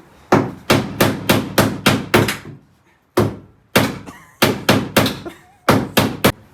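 Repeated hammer blows on a car's sheet-metal quarter panel, loud and close, coming in quick bursts of several strikes separated by short pauses.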